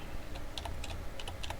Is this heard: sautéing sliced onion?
no